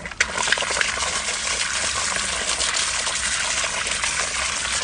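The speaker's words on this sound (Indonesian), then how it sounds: "Nah, cuci lagi satu kali, isi air dulu." Water poured steadily to rinse a plant pot while repotting indoor plants, a continuous close splashing trickle lasting throughout with no voices.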